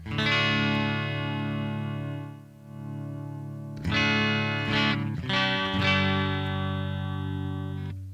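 Sustained electric guitar chords ring out in a clean, shimmering tone through a $79.99 all-in-one multi-effects pedal, several strums letting notes sustain and overlap, with no talking.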